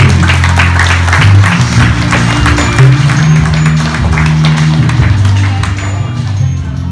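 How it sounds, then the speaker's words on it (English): An audience at a social event gives a loud, sustained round of applause. The dense clapping runs for several seconds over a low rumble from the room. "Round of applause."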